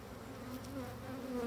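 Angry black honeybees from a colony buzzing in a dense, continuous drone that stays close and fairly loud throughout.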